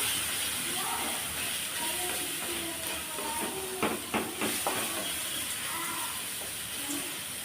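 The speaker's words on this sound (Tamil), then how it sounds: "இதை நல்லா வதக்கி விட்டுடலாம்" Turmeric, coriander and chilli powders sauté in a hot pan for an egg gravy, giving a steady sizzling hiss throughout with a few brief clinks of a stirring utensil midway, no talk over it.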